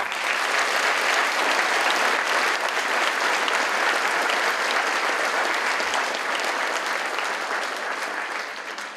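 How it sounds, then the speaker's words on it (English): Sustained, dense applause from a conference audience for a musical performer at a climate change event in Washington, D.C., loud and steady throughout, tapering slightly near the end. "Please give another round of applause for this exceptional artist"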